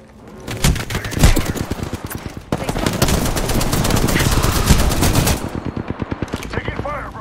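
Sustained automatic gunfire rattles in an arena shooter game in loud, rapid bursts. The firing runs almost continuously and thins into spaced shots near the end, with some voice underneath.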